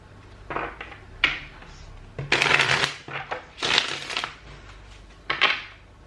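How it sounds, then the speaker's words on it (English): A deck of tarot cards being shuffled, quick papery riffles and slaps in several bursts of varying loudness, close by with no talking. "Just gonna shuffle the cards a little bit here before I start your reading."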